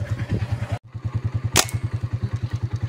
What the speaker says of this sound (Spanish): Va viendo una moto acá.